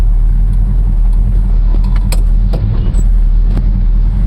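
A 1969 Plymouth GTX engine idles with a loud, deep, steady rumble close by while it is shifted through neutral and reverse. Faint clicks and light knocks sound over the continuous drone.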